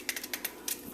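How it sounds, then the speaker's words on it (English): A paring knife cuts the woody root out of a halved cassava, a quick run of crisp close ticks and small snaps in under a second, with no voices. "So what I'm going to do is cut that out"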